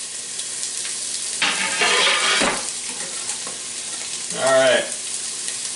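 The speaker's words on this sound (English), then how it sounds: "to chop up your onion and your pepper. We're going to throw that in the hot pot" Chopped onion and pepper hit a hot pot for venison chili and fry with a close, loud sizzle and stirring, a second burst of frying following a few seconds later, with a brief spoken word in between.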